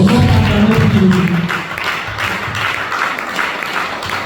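An audience at a men and women church conference applauds, starting as a dense, loud burst of clapping that settles into a steady, softer wash of many hands, with a voice briefly heard at the start.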